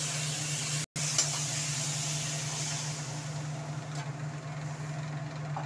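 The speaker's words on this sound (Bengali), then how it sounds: "এবার জলটা দিয়ে দিই" Water hits a hot pan of frying cumin and chilli paste cooked with salt, bursting into a loud, steady hiss after a brief dropout, holding strong and slowly easing without any voices.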